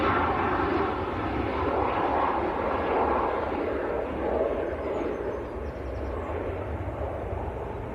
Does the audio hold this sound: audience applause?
no